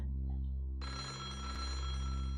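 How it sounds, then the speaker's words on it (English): Telephone ringing in a mansion in the video game Otogirisou, a steady electronic bell tone sounding alone at moderate volume, joined partway through by a brighter, sustained ringing layer. "Another phone was ringing somewhere in the mansion."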